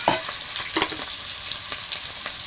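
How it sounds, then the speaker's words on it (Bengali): Chopped onion hits hot oil for a mutton curry, a close, dense sizzle with a few spoon clinks and scrapes as it is stirred, continuous and moderately loud with no talk. "তেলটা গরম হয়ে গেছে। এবার পেঁয়াজ দিয়ে দেবো, পেঁয়াজ কুচি"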